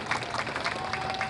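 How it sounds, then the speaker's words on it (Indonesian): Lively crowd applause at an outdoor arts festival main stage performance, a steady dense wash of clapping throughout the brief moment. "Kita berikan tepuk tangan yang meriah"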